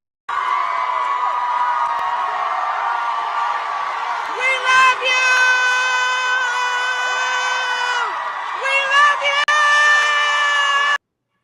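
A crowd screams and cheers in long sustained high-pitched shrieks that swell and hold for several seconds, briefly dip, then surge again, loud and dense.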